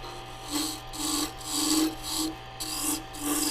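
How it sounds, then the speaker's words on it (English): A carbide insert woodturning tool cuts into spinning wood with a rhythmic rasping scrape, about six close strokes swelling and easing over a steady low hum, with no speech. "Let's test out this carbide insert tool, see how that works."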